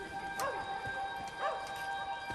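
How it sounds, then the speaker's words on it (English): A dog barks twice at a distance in a Wolfenstein: The New Order game scene, short yips rising out of a steady background hum with no talking. "I hear children. A dog."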